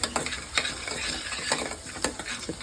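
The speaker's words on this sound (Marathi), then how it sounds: "हे तिखट आणि हळद याच्यामध्ये कांदा व्यवस्थित शिजवून घ्यायचा आहे. म्हणजे तेल सुटेपर्यंत याला शिजू द्यायचं आहे" Onion fries in oil with chili powder and turmeric for a Kolhapuri-style whole masoor dish, a continuous close sizzle broken by repeated scraping stirs of a spoon against the pan.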